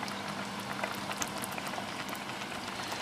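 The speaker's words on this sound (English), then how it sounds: "the sound of my tummy rumbling and the pot gurgling there" A pot of plums boils on the stove, a dense, steady bubbling and gurgling with constant popping, close and moderately loud with no voices.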